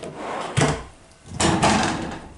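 A deep drawer on ball bearing roller slides in a tiny house bedroom rolls open and shut twice, each a smooth rushing slide ending in a soft thump, close and fairly loud.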